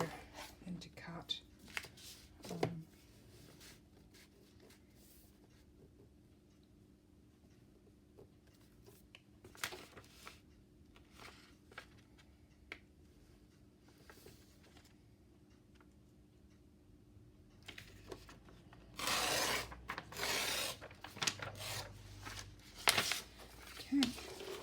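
Paper torn for a Daphne's Diary junk journal cover: quiet handling ticks and taps, then a louder burst of ripping and crinkling near the end, close up.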